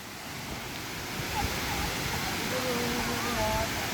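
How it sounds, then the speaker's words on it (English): The Kuang Si waterfall in Luang Prabang gives a steady, broad rush of falling water, fairly close and continuous, swelling slightly partway through, with faint voices over it. "Look at the waterfall."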